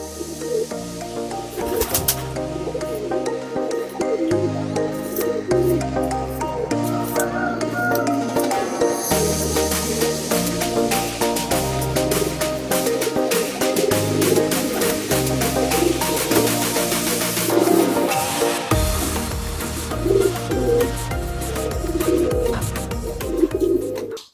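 Pigeons coo steadily and fairly loudly throughout, their layered calls overlapping in a continuous chorus with no one speaking.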